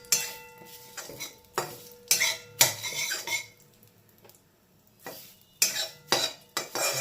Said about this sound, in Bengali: ভালো করে আমি কারি পাতার সাথে জিরেটা ঘিতে ভেজে নেব।